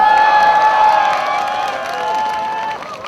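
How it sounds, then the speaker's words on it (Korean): A crowd at a Disability Discrimination Day rally in Korea applauds and cheers, a loud continuous wash of sound with sustained tonal voices or music running through it, briefly and without clear speech. "우리 동작구지에 계신 분들에게 힘찬 박수 올려줬으면 좋겠습니다."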